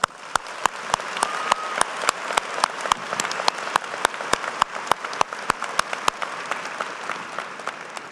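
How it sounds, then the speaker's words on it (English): Audience applause fills a university business school commencement ceremony, a steady wash of clapping punctuated by a few sharp, regular claps close by, lasting throughout. "Let's give her a round of applause."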